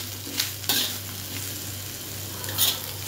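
Okra, or ladies finger, stir-fried with curry leaves in a pan, giving a steady sizzle under a few spatula scrapes and clinks against the metal.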